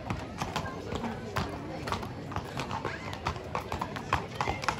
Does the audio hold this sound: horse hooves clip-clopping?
yes